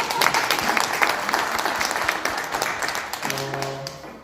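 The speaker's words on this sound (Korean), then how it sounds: "박수 한번 쳐주세요." Audience applause at a business seminar, dense clapping from a crowd that swells at the start and gradually thins toward the end, with a faint tonal hum entering near the close.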